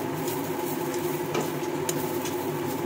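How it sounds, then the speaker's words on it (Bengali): Mashed vegetable bharta frying in a pan while being stirred, a steady close sizzle with soft scraping strokes running through the whole stretch. "আর যত ভর্তা নাড়াচাড়া করবেন, ভাজা ভাজা করবেন"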